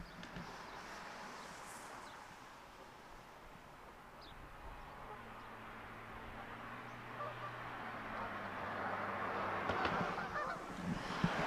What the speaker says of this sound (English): there is a lot of waterfowl down here